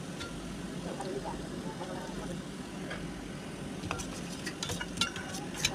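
Spices, tomato, chopped chilli and ginger-garlic paste fry in a pan for a paneer masala, giving a steady low sizzle with a few utensil clinks and scrapes toward the end.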